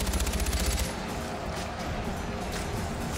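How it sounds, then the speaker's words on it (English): Dense gunfire from the shooter game Far Cry 4 in an arena round, a rapid rattling burst up front giving way to a steady roar of continuous shots and battle noise. "Let me shoot this guy first"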